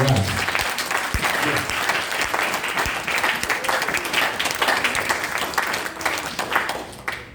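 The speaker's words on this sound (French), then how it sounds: "Applaudissements à toi" Sustained applause from a church congregation praising God during a French-language service, dense clapping from many hands continuing evenly for several seconds, close and full, with voices mixed underneath before fading at the end.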